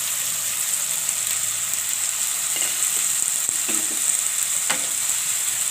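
Chopped green onions fry in hot oil, giving a steady, close crackling sizzle throughout, broken by a few light clicks of stirring and with no voices.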